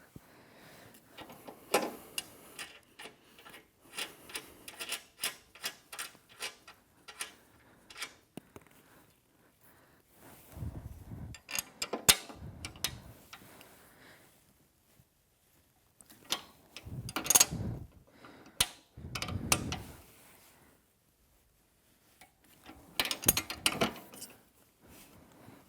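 A bolt on an Allegro 2 Reformer's sliding mechanism is turned counterclockwise to loosen it, producing quick metallic ratchet-like ticks in bursts, with heavier clunks and scrapes of metal between quiet pauses.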